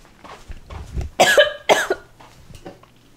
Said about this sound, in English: I have not coughed all day.